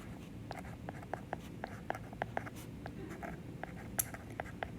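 An equation being handwritten, with quick faint scratchy strokes ticking in a loose rhythm, close and quiet, with no talk over it.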